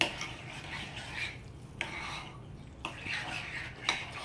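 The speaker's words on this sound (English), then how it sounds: "you just mix up that wet mixture that we made earlier with your little pieces of egg" Utensils stirring a wet egg salad mixture of chopped egg pieces in a bowl, giving soft scraping and clinking strokes in a steady rhythm, fairly quiet and close, with no talking.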